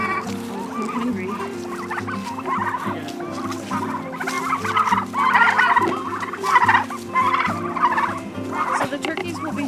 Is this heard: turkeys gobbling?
yes